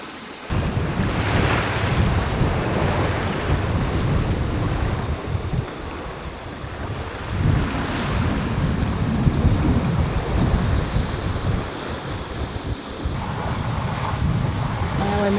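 Wind rushes and waves wash against a sailing yacht moving at speed under trimmed sails, a loud, continuous roar with surging swells and heavy wind buffeting the microphone throughout.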